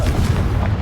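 A Confringo fire spell blast in the video game Hogwarts Legacy, a single short, loud, low booming burst that lasts under a second.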